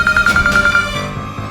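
A phone rings with a repeating electronic tone of short pulses over a low background hum, stopping partway through, for an incoming call from an uncle in a home setting.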